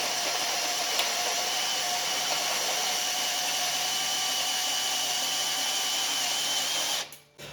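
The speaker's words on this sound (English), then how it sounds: "Because noise just makes you burn out your drill bits like that." A power drill runs in one long steady high whine for about seven seconds, loud and close, then cuts off abruptly near the end.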